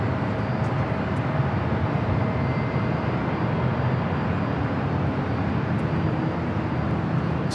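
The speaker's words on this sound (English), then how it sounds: "Behind it, Delta Airlines flight 715 heading to Atlanta." A Delta Airlines Boeing 737-900ER jet at LAX, a loud continuous broadband engine roar that stays level and dense from start to finish, with no voices over it.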